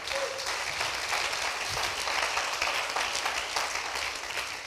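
A church congregation applauding to acclaim the Lord, steady dense clapping from many hands throughout, moderately loud and filling the room.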